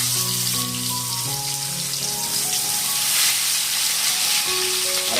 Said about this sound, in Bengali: তেলটা গরম হলে আমরা এর মধ্যে মাছগুলো দিয়ে দেবো